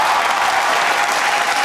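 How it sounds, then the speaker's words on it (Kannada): Loud, sustained applause from a studio audience on a Kannada TV game show, a thick even roar of many hands clapping throughout with no voices over it. "ಇವ್ರಿಗೆ ಬರ್ಲಿ ಒಂದು ಜೋರಾಗಿ ಚಪ್ಪಾಳೆ"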